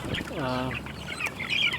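Hens in mobile chicken tractors on a farm cluck and squawk close by in a short burst, with a drawn-out call in the middle and more clucking after it.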